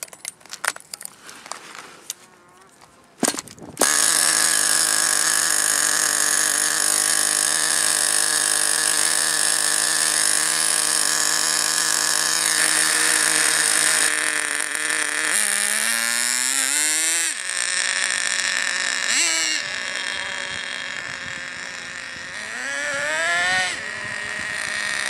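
A nitro model engine bursts into life after a brief start attempt and runs at a loud, steady high-pitched whine, its pitch dipping and rising with throttle changes toward the end, close up.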